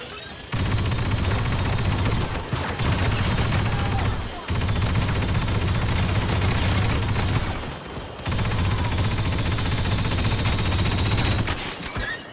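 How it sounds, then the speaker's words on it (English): Sustained bursts of rapid blaster fire from a Star Wars Battlefront II match, loud and dense, running in long continuous volleys separated by brief gaps. "Deploying rapid fire."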